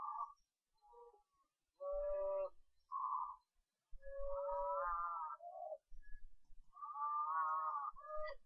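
Cattle mooing in RuneScape, several drawn-out game moos in a row with short pauses between, loud and close with no talking.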